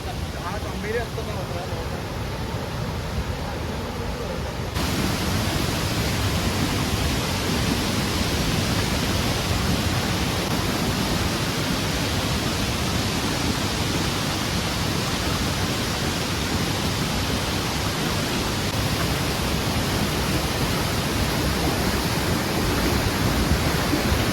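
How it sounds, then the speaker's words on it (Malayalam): Dhoni waterfall seen from its top in a monsoon-fed forest: after a quieter opening, a loud, steady broadband roar of rushing water fills the rest of the clip without pause. "ഇതാണ് വെള്ളച്ചാട്ടത്തിൻ്റെ മുകൾ ഭാഗം. ഇവിടെ നിന്നാണ് വെള്ളം ഒഴുകി വരുന്നത് കേട്ടോ താഴത്തേക്ക്."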